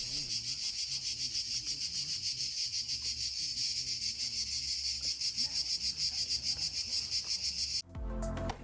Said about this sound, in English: we heard the sound of insects called cicadas